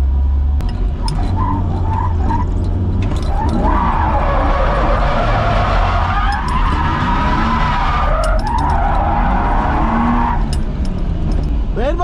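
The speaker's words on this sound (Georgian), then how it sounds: "რა კარგი რაღაცა ყოფილა, ბიჭო, დრიფტი" A drifting car skids through sustained tire squeal with engine roar, the screech rising and falling in long sweeping waves across the whole stretch, loud and close.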